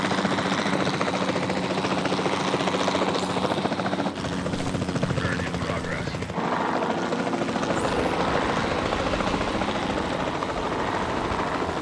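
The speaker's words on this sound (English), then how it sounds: "Then the sensible thing is to take a capture team helicopter." A capture-team helicopter in the Jurassic World Alive video game drones steadily for the whole stretch, its rotor wash loud and unbroken with no voices over it.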